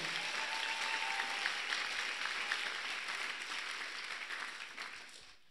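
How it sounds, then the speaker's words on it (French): A church congregation at a Saturday prayer service applauding together, a dense, steady wash of clapping that fades slightly toward the end. "Acclamons pour le roi des rois."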